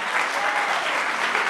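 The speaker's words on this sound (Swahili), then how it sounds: "Ninafikiri makofi yangejaa." A church congregation applauding, a dense, steady wash of many hands clapping, close and loud, with no distinct voices over it.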